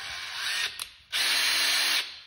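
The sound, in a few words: power drill drilling into automotive plastic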